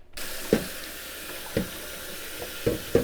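Tap water runs over green beans in a sink, a steady splashing stream with a few brief knocks and clatters of the beans being handled.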